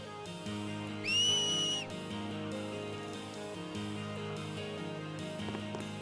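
A sharp, loud whistle rises and holds for under a second, blown through fingers in the Final Fantasy X game, over soft background music.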